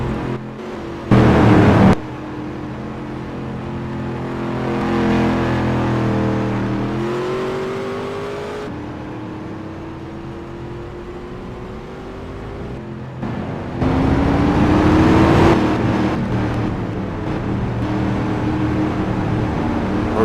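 Race cars from the 2007 season in the NR2003 sim drive along pit road, engines droning and revving steadily, with pitch rising as cars accelerate away and brief louder bursts as others pass, no talking.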